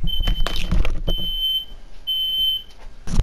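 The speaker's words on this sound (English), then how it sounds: "Fire alarm went off." A fire alarm in Call of Duty: Modern Warfare beeps loudly in long, steady high-pitched tones, with gunfire and game action in the mix.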